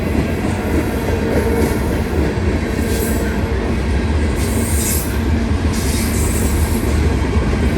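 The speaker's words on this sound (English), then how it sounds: "Got two trains going by right now." Two trains pass at once, one a CSX freight with flat cars and covered hoppers, close and loud: a dense, continuous roar of rolling wheels with rhythmic clatter and intermittent high squeals.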